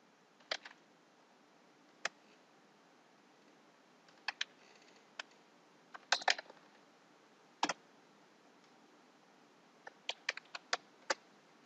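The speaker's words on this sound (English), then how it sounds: "now I am using the mosaic plot command, and under mosaic plot command I am now typing my variable name" Faint, sparse keystrokes on a computer keyboard: scattered single taps and short quick clusters separated by quiet pauses.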